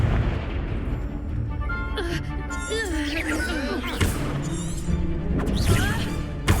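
A Confringo blasting spell from Hogwarts Legacy bursts amid a busy battle, with several sharp explosive impacts over dense layered combat noise, magic whooshes and game music throughout.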